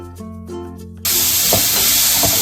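Tomatoes drop into browned, translucent onions frying in a pan for methi chaman, setting off a sudden loud sizzle halfway through that holds as a steady, close hiss.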